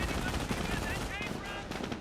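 Infantry squads trading rifle and machine-gun fire in the Company of Heroes strategy game, a dense, continuous rattle of shots under a steady wash of battle noise for about two seconds.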